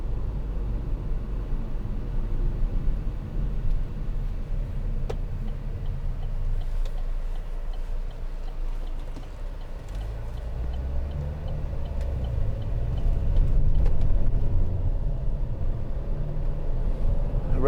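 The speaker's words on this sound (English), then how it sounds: "Gearbox is extremely good. Just changing down there as I came around the corner." A 2015 Vauxhall Insignia 2.0 CDTi SE diesel hatchback drives along with a continuous low engine and road rumble heard from inside the cabin, steady throughout and swelling slightly partway through.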